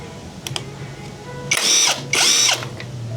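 Impact wrench removing bolts from a Yamaha Nmax motorcycle muffler, two loud close rattling bursts of hammering, each about half a second, after a few faint clicks.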